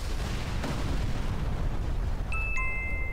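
A blast goes off in Sniper Elite 4 on Switch, a broad low rumble filling the whole stretch at steady loudness, with a couple of thin electronic tones chiming in near the end.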